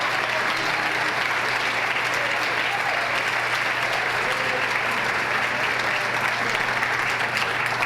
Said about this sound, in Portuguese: Dá um aplauso para Ele